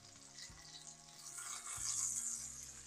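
Halibut fillet frying in hot oil in a pan, a steady close hiss and crackle that swells slightly toward the end, with faint low background hum.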